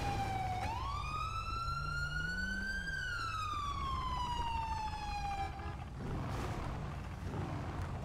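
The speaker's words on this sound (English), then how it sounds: "Can you turn my sirens off, Crispy, please?" A police car siren in a video game police roleplay bank heist wails continuously up close, its tone rising and then sliding slowly down, over steady engine rumble with no talk.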